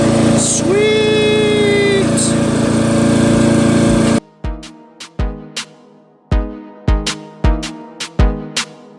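A Murray 40-inch widebody lawn tractor with a 12.5 HP Briggs & Stratton flathead engine runs steadily up close, then gives way to a series of sharp, separate knocks and clunks spaced irregularly.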